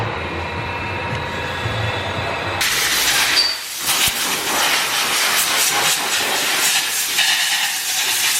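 Inside a workshop, an air blower lets out a strong, steady rushing hiss. It surges suddenly, dips for a moment, then keeps blasting loudly and continuously.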